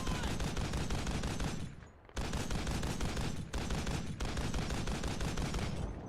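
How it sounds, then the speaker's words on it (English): A jeep-mounted .50 caliber machine gun in a war video game fires long, loud, continuous streams of heavy rounds at a steady, fairly slow rate, broken by a few brief pauses. "Why does this 50 cal shoot so much slower than the other one we used at the beginning of the level?"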